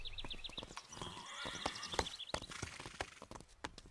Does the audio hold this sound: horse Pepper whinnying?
yes